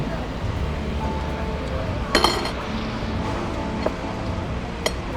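Glasses clinking in a toast at a meal on a stevia farm in the Philippines, one bright ringing clink in the middle and a couple of fainter taps later, under steady background murmur and talk.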